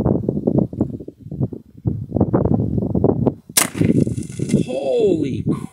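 A Huben GK1 .25 caliber airgun fires one sharp, loud crack partway through, with a short ringing tail, while someone talks before and after the shot.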